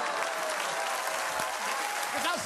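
Studio audience applause fills the clip, a steady dense wash of clapping at moderate loudness with faint voices mixed underneath.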